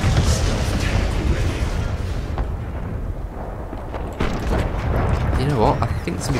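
Tank cannon blasts in the video game Renegade X, heavy booming shots inside a dense, continuous wash of battlefield rumble and mechanical noise, loud and close throughout.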